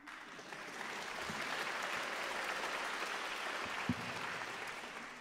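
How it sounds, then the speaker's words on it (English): Concert audience at a junior piano competition final round breaks into steady, even applause that swells quickly and holds, heard from within the hall with a few isolated thumps. "And you can clap now."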